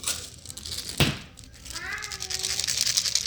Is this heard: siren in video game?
no